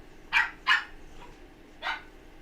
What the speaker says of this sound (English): Oh, them dogs. Sorry about that. Puppies are getting crazy.